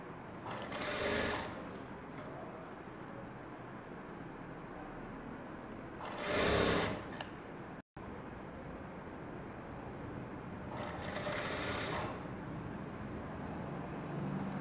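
A sewing machine stitching a plain blouse runs in a steady motorized whir, broken by three brief louder surges of faster stitching, with no voice over it.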